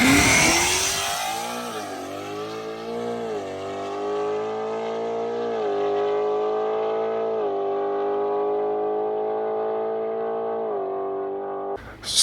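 A Mustang GT with a 10R80 transmission launches off a 2-step at 3,100 RPM, its engine climbing through repeated upshifts in a long, loud, steady pull, heard up close with no talk.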